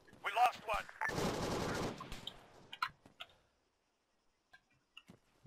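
Gunfire in the video game ARMA 3 comes as a loud sustained burst of automatic fire, then scattered fainter shots that trail off. A voice is briefly heard at the start.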